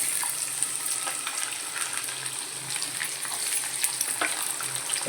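Onion drops into hot oil with reddened mustard seeds for masala poha, producing a steady, bright frying hiss with fine crackles and light stirring.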